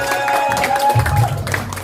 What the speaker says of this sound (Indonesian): Yang ikhlas tepuk tangannya